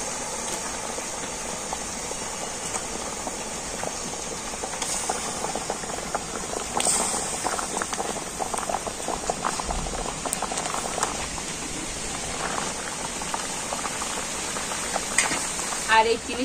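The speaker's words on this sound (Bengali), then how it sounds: "আর এই চিনির শিরার মধ্যে তো পিঠেগুলোকে আমি 5 মিনিট ফুটিয়ে নেব।" Palm-juice fritters simmer in sugar syrup in a pan, giving a steady low bubbling and soft sizzle. The sound is continuous and moderately quiet, with faint clinks and stirring noises now and then.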